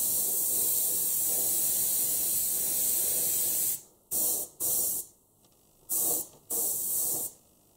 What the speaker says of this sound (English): that's how it looks like after spraying it